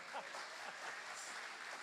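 Applause from a church conference audience welcoming the keynote speaker, a steady dense wash of clapping with some voices mixed in, fairly quiet and continuous.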